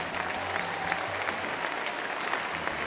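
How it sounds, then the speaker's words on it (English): Audience applause at a Staffordshire Bull Terrier display, a steady dense wash of clapping from a crowd that holds at an even level throughout, with no speech over it. "Terrific round of applause there for Paul's"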